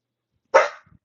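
A single loud, close dog bark rings out sharply from silence, followed by a faint trailing sound.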